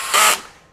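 A Masterforce 20V brushless compact 1/2-inch hammer drill driver backing out a screw from a 2x4, one short burst of motor whir that quickly cuts off.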